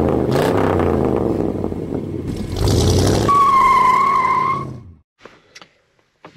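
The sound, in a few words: 1995 Ford F-150 XL 4x4 pickup truck driving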